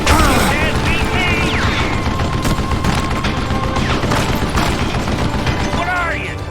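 Rapid gunfire crackles in the Western shooter game Call of Juarez: Gunslinger, dense and continuous throughout with booming shots and ricochet-like whines, under shouted character voices.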